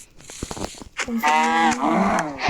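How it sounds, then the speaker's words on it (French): A cow moos in a Minecraft-style survival game, one drawn-out low bellow with a harmonic, nasal tone that swells loud in the second half after a moment of quieter clicks and movement. "Oh vache."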